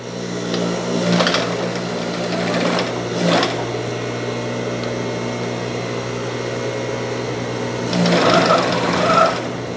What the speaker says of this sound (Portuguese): Já posicionei aqui direitinho e agora eu vou passando a costura.